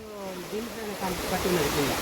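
A stream swollen by recent rains near a remote village rushes with a steady broadband wash while someone talks over it up close.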